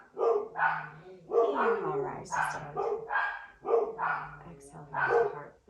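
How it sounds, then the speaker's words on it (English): Dogs bark repeatedly in short, spaced bursts in a small village, moderately close and fairly loud, while a calm voice gives yoga instructions over them. "Not sure if you can hear the dogs barking"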